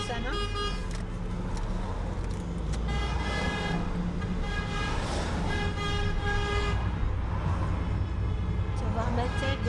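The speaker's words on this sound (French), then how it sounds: "C'est pas pratique ce klaxon" Car horn honking in a Freedom Convoy driving through the Dijon area in February 2022, heard from inside a vehicle as repeated toots over steady road noise, with people talking throughout.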